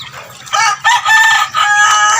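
A rooster crows loudly and close in a continuous, strained call lasting a couple of seconds, with no talking.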